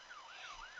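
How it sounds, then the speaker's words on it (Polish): Wailing emergency siren from a Roblox game, rising and falling in smooth repeated sweeps, fairly faint and steady with no talking over it. "Co nas budziło? Syreny?"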